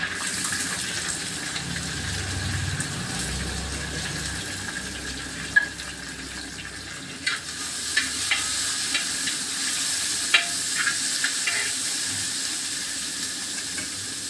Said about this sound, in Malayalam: അപ്പോൾ നമുക്ക് ഈ സവാള കൂടി ഇട്ട് കൊടുക്കാം